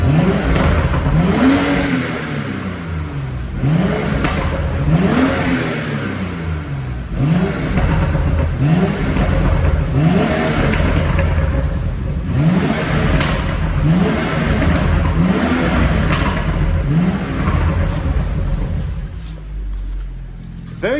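BMW M135i Steptronic engine in sport mode blipped repeatedly: a series of sharp, loud revs rising and falling every couple of seconds over a steady idle rumble, close by.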